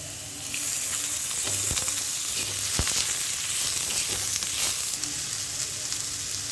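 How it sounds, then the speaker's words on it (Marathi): Onion roasts crisp in a pan for a Marathi crab curry, a steady close sizzle and crackle with a few sharp clicks and scrapes of stirring, no talk. "कांदा चांगला खरपूस भाजून घेऊ"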